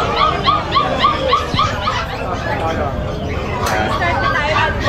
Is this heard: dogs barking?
yes